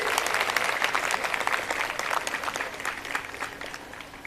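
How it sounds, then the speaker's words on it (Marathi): A crowd at a devotional discourse ceremony claps together in a steady burst of applause, with many hands giving a bright, crackling texture that holds evenly before easing slightly at the end. "अरे वाजवा टाळ्या याच्यासाठी बी."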